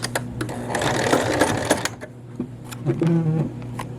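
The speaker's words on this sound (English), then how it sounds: "place your skirt in the machine with the side seam under the presser foot, and we'll begin with a back stitch" A sewing machine back-stitches over the side seam of a skirt's elastic waistband, a brief close whirring run with rapid needle clicks, then slowing to a few separate taps.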